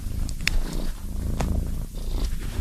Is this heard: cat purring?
yes